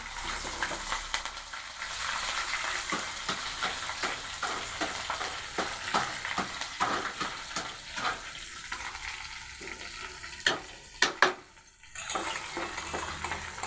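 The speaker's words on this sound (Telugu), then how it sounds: "ఇప్పుడు పోపు చేస్తున్నాను" Green chillies tempering in hot oil in a pan give a continuous bright sizzle and crackle, with metal stirring clinks and scrapes throughout and a few sharp pan knocks near the end.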